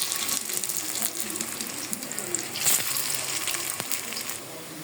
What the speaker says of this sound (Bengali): সরিষা ফুলের বড়া কিন্তু ভাজা হয়ে যাইতেছে।